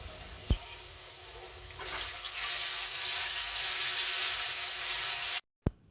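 Chopped onions hit hot oil in a pan with a sudden sharp sizzle, then a steady, loud frying hiss settles in and continues up close while the onions cook for a Bengali katla fish curry.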